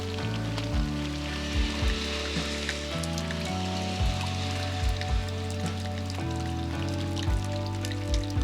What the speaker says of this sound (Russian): Дождь усилился, поливает как из ведра.